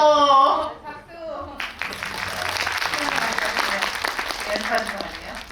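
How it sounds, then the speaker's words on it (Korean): A cinema audience at a film Q&A for Drive My Car at Megabox COEX breaks into warm, sustained applause right after a brief spoken prompt, the clapping dense and steady for several seconds. "박수"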